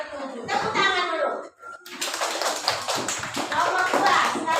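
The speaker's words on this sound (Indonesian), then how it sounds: "Tepuk tangan dulu." Children in a classroom clap their hands together, the bursts of claps mixed with kids' voices and chatter, close and lively across a few seconds.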